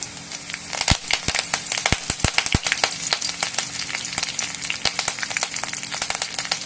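Curry leaves added to hot oil with chillies and popped mustard seeds, giving a loud close sizzle full of sharp snapping crackles, thickest early on and then settling into a steady hiss, with no talking.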